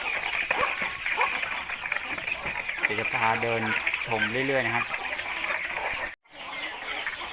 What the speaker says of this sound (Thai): พามาชมไก่อายุประมาณสามเดือน